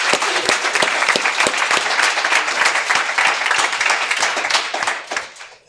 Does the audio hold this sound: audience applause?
yes